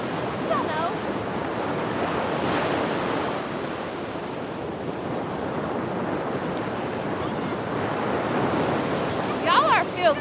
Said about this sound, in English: It's the waves.